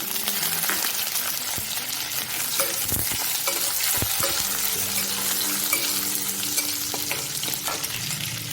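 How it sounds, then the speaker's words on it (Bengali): Steady crackling sizzle of raisins frying in a pan, with scraping stirring strokes and occasional clinks of a utensil against the metal. "কিশমিশটা ভাজা হয়ে গেলে আমি কুমড়োটা দিয়ে দেব"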